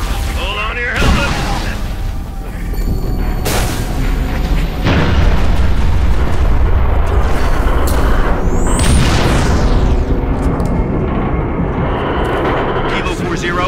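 Artillery fire in Halo: Reach, with heavy booming explosions over a constant roar of aircraft and battle noise, loud and dense, sharp blasts standing out near the start and middle, voices faintly mixed in.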